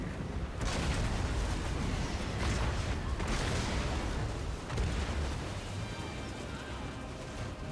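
Gunner units in Total War: Warhammer 3 pour bullets into charging War Dancers, a dense continuous roar of gunfire and explosive bursts with sharp volleys at intervals, loud and busy throughout with faint battle din beneath.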